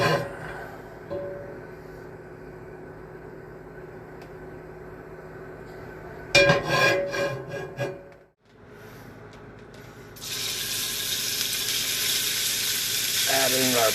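Pork chops are added to a hot pan with oil and sizzle steadily up close, with a clatter partway through and a louder, brighter frying hiss toward the end.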